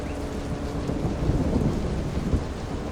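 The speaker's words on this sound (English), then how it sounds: "What a storm." A heavy thunderstorm at sea in Silent Hunter 3 brings a dense, continuous roar of rain and wind with deep rolling thunder underneath, loud and unbroken throughout.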